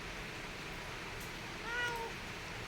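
A kitten gives a single short meow against faint steady background hiss, with no talking.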